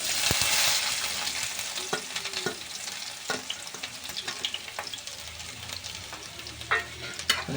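Whole cumin seeds hit hot oil with a loud hiss, then onions go in and fry with a steady sizzle, punctuated by clinks and scrapes of stirring.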